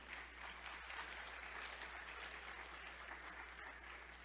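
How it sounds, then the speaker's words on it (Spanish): A church congregation claps during a Spanish-language service, a continuous, even wash of applause that sounds somewhat distant and quiet over a low steady hum. "Dele un aplauso al Señor."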